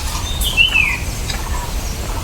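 A bird calls near its nest hole in a tree in the forest, a single rising-and-falling squawk standing out briefly against a low outdoor background hum.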